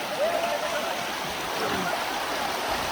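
Steady broadband rush of a clear flowing stream in Karjat, Maharashtra, close and continuous, with a faint voice briefly audible beneath it.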